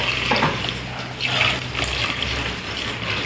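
Water is poured steadily from nearby into a pot of paksiw na bangus, a milkfish stewed in vinegar, making a continuous gushing splash with no talking.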